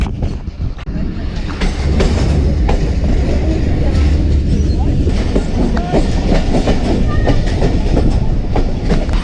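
A train rumbles loudly past at close range at a railway station platform in Pakistan, its wheels clattering in a steady clickety-clack over a deep, continuous roar.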